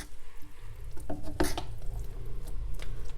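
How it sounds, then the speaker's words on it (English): Spaghetti carbonara made with egg and no cream, stirred in a pan: soft, wet scraping and slurping of the pasta, a sharp clink of the utensil against the pan midway, and light clatter close by. "Now you stir it again."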